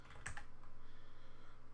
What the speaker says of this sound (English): I'm just going to type in the values that I recorded.